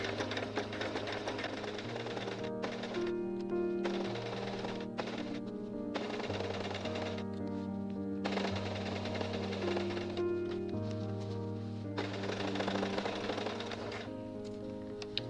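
A sewing machine stitches quilt binding in a steady, fast mechanical chatter, running in bursts with short pauses and a humming motor tone that shifts in pitch between runs.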